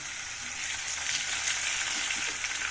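Green chillies frying in hot oil in a pan, a steady close sizzle with a continuous crackling hiss throughout, with no voices.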